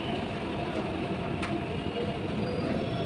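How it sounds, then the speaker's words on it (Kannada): Steady low rumble of a metro train rolling through Ameerpet metro station in Hyderabad, with a brief high squeal of wheels partway through; no voices. "ಸೊ ಈಗ ನಾವು ಬಂದೆವು ಅಮೀರ್ಪೇಟೆ ಮೆಟ್ರೋ ಸ್ಟೇಷನು"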